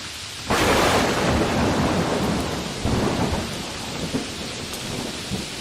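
Heavy rain pours down on a rainy night while a deep roll of thunder swells loudly, then rumbles on beneath the steady downpour, with no voices.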